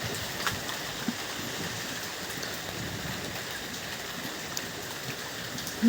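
Steady rain falls during an evening after a storm, a dense, even hiss of drops on surfaces with no pauses, heard close and alone for the whole stretch.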